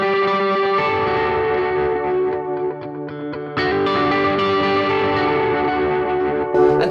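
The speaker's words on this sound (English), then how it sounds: "the great thing about using dotted eighth note delays is that you can play a really simple part and it just sounds incredible" Electric guitar with a dotted eighth note delay plays a simple repeating melodic line whose echoes cascade into a shimmering, rhythmic wash, continuous and fairly loud with no voices.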